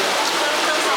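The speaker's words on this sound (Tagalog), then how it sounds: "Pero umuulan." Rain falls steadily outdoors, a dense continuous hiss of drops with no other distinct sounds over it.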